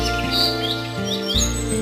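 A cartoon sparrow gives a short run of bright, synthetic-sounding chirps over a steady tonal background, clear and close.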